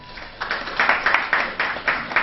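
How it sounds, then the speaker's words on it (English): An audience claps at a science day celebration, producing a brief run of scattered applause in bursts that grows and falls in loose rhythm, fairly soft and distant. "the whole country will applaud like this"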